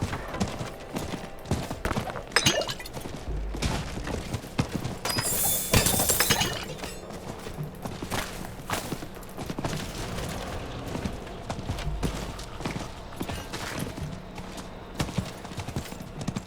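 Horse hooves clip-clop steadily while riding in the video game Diablo 4, a continuous trotting rhythm mixed with metallic clanks, crackles and other game sounds throughout.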